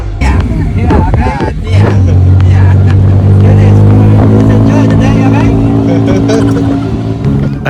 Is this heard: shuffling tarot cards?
no